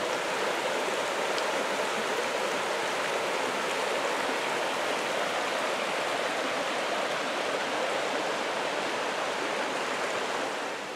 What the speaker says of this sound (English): You got the beautiful brook right there.